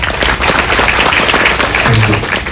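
At a CA intermediate felicitation ceremony, an audience claps loudly and continuously, a thick, close burst of applause with a few voices mixed in.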